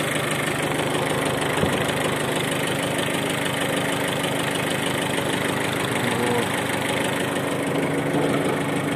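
A Japanese Mitsubishi MT1801 mini tractor with a rotary tiller idles steadily nearby. Its engine gives an even, rhythmic chugging with slight knocking vibration that stays constant from start to finish, with no speech.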